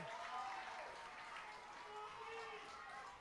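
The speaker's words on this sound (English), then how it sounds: "The home crowd is fired up, as you can hear." A home crowd cheers at a high school football game between Genoa and Otsego, a continuous roar of voices and clapping under a close commentator's voice.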